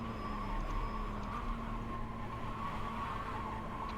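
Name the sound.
race car tires squealing in corner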